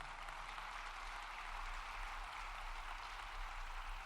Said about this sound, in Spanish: Denle ese aplauso al Rey de Reyes